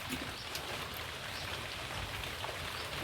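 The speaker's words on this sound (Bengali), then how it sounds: "আবার বৃষ্টি বৃষ্টি সারাদিন" Steady rain falls through a daytime scene in a Bengali home, a continuous broadband hiss of drops on surfaces at an even level with no talk over it.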